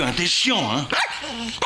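A stepfather's dog, looked after for the day, barks and yips loudly and close in a few quick outbursts, mixed with someone talking over it.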